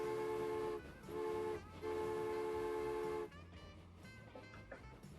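A steam locomotive whistle in the Transport Fever video game sounds in three long blasts, from a Baldwin six-wheel engine, with rumbling engine noise continuing after the last toot.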